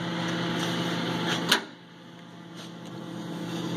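A treadmill motor powering an Atlas/Craftsman lathe hums with a steady electric whine, then a click cuts it off and the drone faintly resumes, building slowly again.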